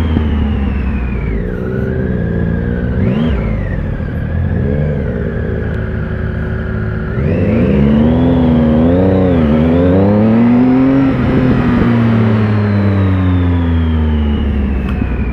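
A 2016 Triumph Speed Triple 1050R motorcycle on a test ride accelerates and revs repeatedly, with the engine pitch rising and falling through gear changes, loud and close with steady wind rush underneath.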